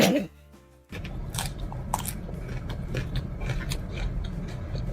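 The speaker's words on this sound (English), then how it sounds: "All that crunching." Crunchy biting and chewing of a hard-shell taco, close and fairly loud, in a steady run of crisp crackling bursts after a brief quiet gap, with a voice murmuring briefly at the start.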